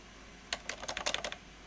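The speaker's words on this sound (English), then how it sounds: "mechanical keyboard." A short burst of typing on a mechanical computer keyboard, about a dozen quick close clicks in an uneven rhythm against a quiet background.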